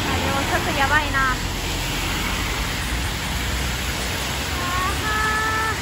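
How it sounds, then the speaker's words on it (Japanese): Heavy rain falls while riding a bicycle through London, a dense, steady hiss that fills the whole stretch, with a faint voice briefly audible near the start. "雨が降ってきちゃった。"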